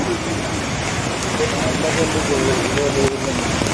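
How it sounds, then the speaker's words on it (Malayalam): Heavy, steady rain pours down during landslide flooding in Karuvarakundu, a constant broadband hiss filling the scene without a break. "ഇന്നലെ വൈകിട്ട് മുതൽ പ്രദേശത്ത് ശമനമില്ലാതെ ശക്തിയായ മഴയാണ് പെയ്യുന്നത്"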